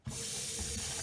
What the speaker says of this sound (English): We're gonna put some water in first because I don't want it all getting stuck on the bottom.